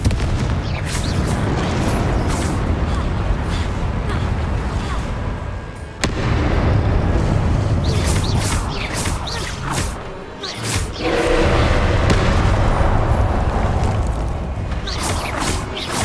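Repeated Confringo fire-spell blasts from the Hogwarts video game, booming explosions with whooshing bursts that keep rolling over a dense, continuous game soundscape, loud and close throughout.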